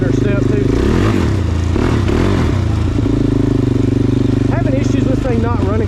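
Suzuki LTZ-400 sport quad with a dual overhead cam engine, running slightly rich and rough, idling loud and close with a steady uneven rumble throughout while a person talks over it.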